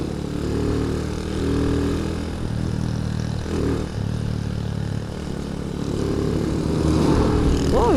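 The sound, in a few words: truck passing by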